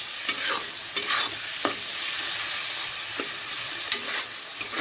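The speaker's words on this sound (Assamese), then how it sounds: "এতিয়া টমেটোখিনি গলি যোৱালৈকে অলপ ভাজি ল'ম।" Chopped tomatoes sizzle in a pan as a spoon stirs them, with a soft continuous frying hiss punctuated by several scraping stir strokes, fairly quiet and close.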